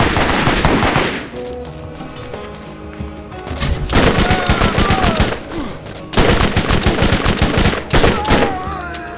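Rapid bursts of automatic gunfire from the video game Borderlands, loud and sustained, broken into volleys with brief pauses, layered over game music and effects.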